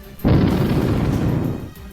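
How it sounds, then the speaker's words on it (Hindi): A heavy explosion from an Israeli strike in Gaza at night bursts suddenly, then a dense rumbling boom rolls on for over a second before fading, with no speech. "सोते हुए गाजा में एक के बाद एक ताबड़तोड़ धमाके कर दिए"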